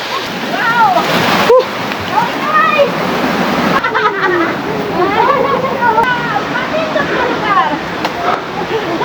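Rushing waterfall at Bambi Falls, a steady broadband roar of falling and splashing water with voices talking over it throughout.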